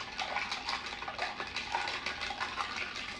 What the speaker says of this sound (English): I'm stirring.